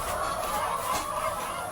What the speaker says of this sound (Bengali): মুরগিরা আপনার কি cock cock cock cock cock cock cock cock cock করতেছে খাবারের জন্য